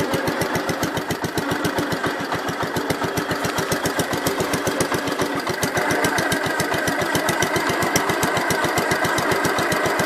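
Gravely 566 tractor engine running steadily in low range, a close, loud, evenly pulsing mid-pitched drone that holds constant throughout with no talk.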